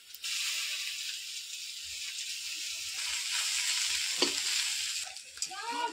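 A paste of ground cumin and coriander sizzles and fries in a pan, a steady bright hiss with soft stirring scrapes and a few louder spatters, heard up close with no talking.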